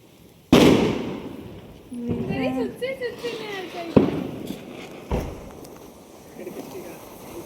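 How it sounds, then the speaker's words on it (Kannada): Several sharp firecracker bangs burst close and loud during Diwali, spaced a second or more apart, with people talking in between. "ಪಟಾಕಿ ಹೊಡಿಯೋಕೆ ಏನು ಖುಷಿ"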